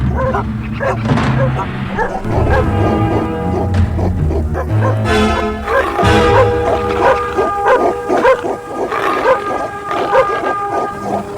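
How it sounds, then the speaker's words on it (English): Several dogs barking and yipping at close range, loud and continuous, mixed with whimpers and howls over a steady background. "And the dog is back, with a friend."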